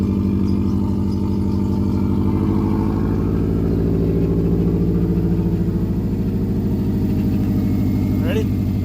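A Subaru WRX engine runs loud and close at a steady idle throughout, with a low rumbling drone and a brief rise toward the end.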